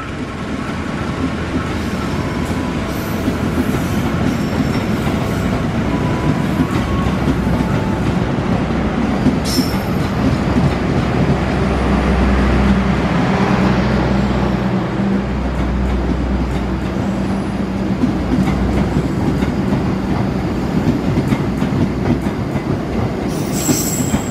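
Singasari passenger train, bound from Jakarta Pasar Senen to Blitar, rolls through Jatinegara station in Jakarta with a loud, steady rumble and squealing wheels that swell midway, then fade under platform ambience.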